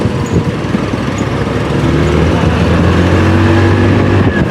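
Motorstar Easyride 150N 150cc touring scooter engine while riding, a loud continuous drone with rising pitch as it accelerates, heavy wind rush and road noise throughout.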